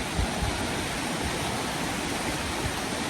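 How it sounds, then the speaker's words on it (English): Steady rushing water from a stream flowing beneath a footbridge on a mountain pass hike, a loud, continuous broadband wash with no pauses, heard close by and alone. "There's the water."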